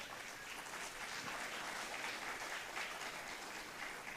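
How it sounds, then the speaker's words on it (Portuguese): Audience applause at an agribusiness climate and grain-harvest forecasting conference as a panelist is welcomed, a faint, even wash of many hands clapping from a distance, sustained throughout. "para quem eu peço uma salva de palmas."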